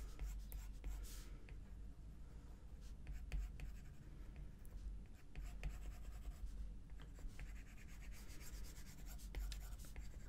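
A stylus scratches quickly across a tablet screen with a grungy pencil brush in Procreate, giving continuous close, dry rubbing strokes throughout with no talking.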